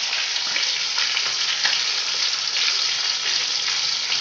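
A fish head fries in oil with a loud, constant hissing sizzle that holds evenly throughout, close by and without any voices.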